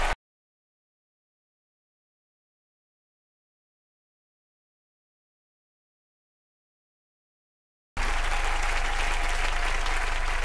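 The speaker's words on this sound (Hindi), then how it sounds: "जोरदार तालियां होने हरभजन भाई के लिए" A studio audience at the Hindi TV comedy show Entertainment Ki Raat bursts into loud, dense applause for cricketer Harbhajan Singh. The applause comes in abruptly after a long silence and continues to the end.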